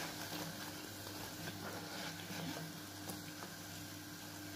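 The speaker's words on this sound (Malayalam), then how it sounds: "ലോ ടു മീഡിയം ഫ്ലെയിമിൽ വെച്ച് ഫ്രൈ ചെയ്തെടുക്കണം ഇതേപോലെ ഗോൾഡൻ ബ്രൗൺ ആവുന്നത് വരെ ഫ്രൈ ചെയ്തെടുക്കാം" Bread pieces frying in hot oil over a low-to-medium flame until golden brown for a crispy spicy snack, a faint, even bubbling sizzle that runs on steadily and softly throughout, with no voices.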